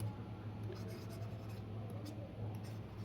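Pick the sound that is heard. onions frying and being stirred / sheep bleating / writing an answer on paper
writing an answer on paper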